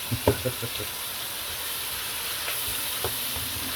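Pork loin sizzling in a hot pan, a steady quiet hiss of frying fat throughout, with a few soft pops and clicks near the start and one more later; no voices.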